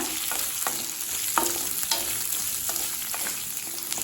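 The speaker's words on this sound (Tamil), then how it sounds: "குடமிளகாயை நல்லா வதக்கிக்கலாம். இந்த பச்சை வாசனை போக வதக்கணும்." Chopped capsicum sizzles steadily in a hot pan for a chutney, with a continuous frying hiss broken by occasional clicks of a spatula stirring.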